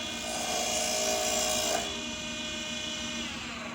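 A wood lathe runs after its hand wheel is tightened down, giving a steady close mechanical hum with a high whine that stays even throughout, with no talking.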